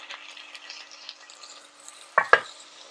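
Lentils being stirred in a pot, a faint soft simmering texture followed by two sharp close scrapes and knocks of the spoon against the pot near the end.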